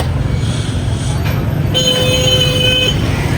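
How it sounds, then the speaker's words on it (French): A short, steady motorbike horn toot sounds over constant road traffic and engine rumble in Ho Chi Minh City, Vietnam, with a higher beep just before it. "il y en a un qui klaxonne, c'est le mien"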